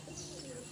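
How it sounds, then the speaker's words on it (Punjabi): A mukhi china pigeon, a fancy imported breed, gives a single short, low, throaty coo, close and steady throughout the brief moment. "ਇਹ ਵੀ ਮੱਖੀ ਚੀਨਾ ਕਬੂਤਰ ਹੈ"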